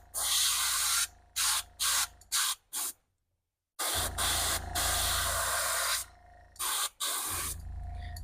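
An airbrush sprays opaque white paint onto a fishing lure in short, close hissing bursts with brief gaps between them, then a longer continuous spray after a pause.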